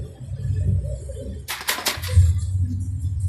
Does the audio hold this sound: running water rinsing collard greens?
no